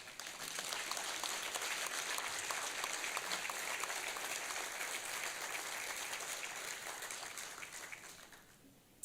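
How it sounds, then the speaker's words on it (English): A conference audience at a Rotary district gathering bursts into sustained applause, a dense wash of clapping that holds steady for several seconds before fading out at the end. "I want you to give yourselves a rousing round of applause."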